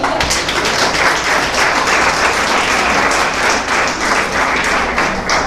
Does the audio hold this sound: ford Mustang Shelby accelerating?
no